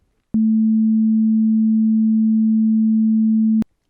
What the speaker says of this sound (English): Let us play the two pure notes. First, the upper one with the smaller amplitude.